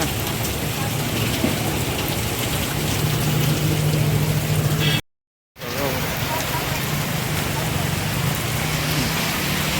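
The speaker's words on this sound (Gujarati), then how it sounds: "વરસાદ ચાલુ થઈ ગયો છે" Steady rain falls over farmland still waiting for soybean sowing, a dense, even hiss that fills the whole clip and drops out for a moment near the middle before continuing just as strongly.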